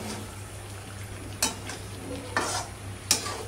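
Potatoes stir-frying with chicken curry in a pan: a low steady sizzle beneath three sharp scrapes and clanks of a spoon against the pot, close and distinct.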